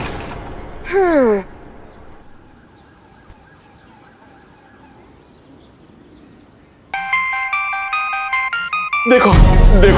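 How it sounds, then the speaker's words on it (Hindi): Phone ringing in an indoor scene: a bright repeating electronic ringtone melody starts partway through and carries on steadily and loudly, with earlier voices and sound effects before it. "हमारी मैडम का फोन बज रहा है"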